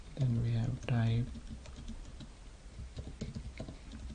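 Computer keyboard typing in quick irregular clicks, close and light, following a brief stretch of speech.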